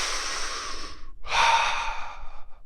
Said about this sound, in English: Even just beginning to shake and take 3 deep breaths.